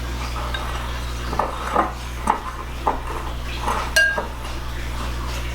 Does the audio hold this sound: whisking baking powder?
yes